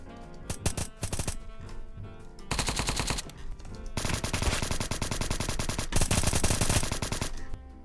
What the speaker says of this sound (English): I don't even know where I got shot from.